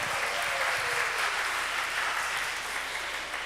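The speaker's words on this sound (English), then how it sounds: "Round of applause for Jane Allen." Steady, dense applause from a kindergarten graduation audience fills the room, a sustained wash of many hands clapping at even loudness with no pauses.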